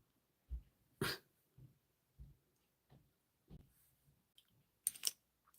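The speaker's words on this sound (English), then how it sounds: "I can hear him barking, but he's probably in the bedroom" Several muffled barks from a dog somewhere distant, coming in irregular bursts through an otherwise quiet room.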